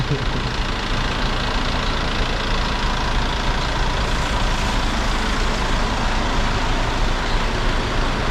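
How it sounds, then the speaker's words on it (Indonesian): A small minibus idles at a bus stop on a rainy day, a steady low diesel rumble and broadband engine noise that holds constant and loud throughout, with no pauses. "Nggak tinggi ya busnya, kecil. Bus mini ya."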